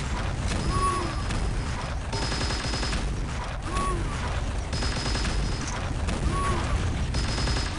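Rocket launcher fire and explosions in an arena shooter free-for-all match, with dense repeated blasts and weapon sounds running continuously at a steady loud level.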